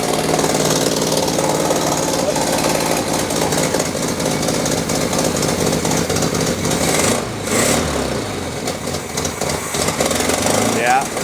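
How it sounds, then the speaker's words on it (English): A 1983 Toyota barn-find engine idles roughly while flooding, a loud, uneven chugging that runs steadily throughout, with voices faintly present. "Let it idle because it was flooding when it was idling."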